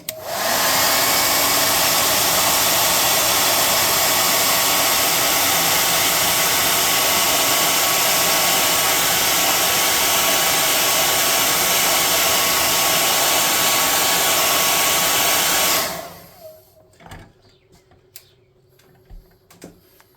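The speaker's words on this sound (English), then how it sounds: "I'm going to hair dry it." A hair dryer blows loudly and steadily at close range over a freshly painted model, a dense continuous roar that cuts off abruptly near the end, leaving a few faint clicks and taps.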